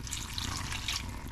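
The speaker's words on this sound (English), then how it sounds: "I'm going to go ahead and add 4 more cups of water to this just to be on the safe side." Water pours into a pot of cranberries and raspberries, a steady close splashing rush lasting about a second.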